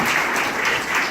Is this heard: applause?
yes